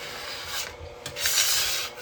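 A bench scraper drags across a floury work surface while hot cross bun dough is prepared, a close, continuous rasping scrape lasting a couple of seconds with slight swells in loudness.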